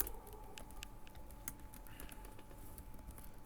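Fingers type on a computer keyboard to enter an SQL select query, producing quiet, rapid, irregular key clicks over a faint steady hum.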